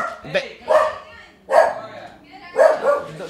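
Several dogs barking in short, loud bursts at close range, about four barks with brief yips in between, heard during a lively talk show.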